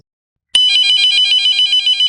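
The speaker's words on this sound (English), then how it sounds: "A phone rang simultaneously as soon as I called the man." A telephone rings suddenly after half a second of silence, a bright, continuous electronic trill with a steady pulsing warble, loud and close, with no voices.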